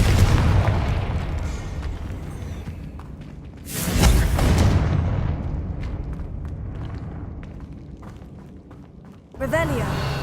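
In Hogwarts Legacy, a Confringo blasting spell bursts into a booming explosion midway through. It swells out of a dull, rumbling background, then decays slowly before a brighter magical shimmer rises at the end.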